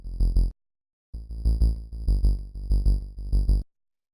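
A synth bass built from a saw wave, run through a bit crusher and sidechained, plays short pumping notes with a gritty distorted edge, starting with one stab and continuing after a brief gap with several rhythmic notes.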